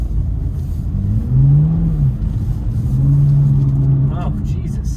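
A BMW M2 drives on ice, its engine heard up close from inside the car. It gives a low rumbling drone with rising and falling revs and two clear rev swells, and a brief squeal comes near the end.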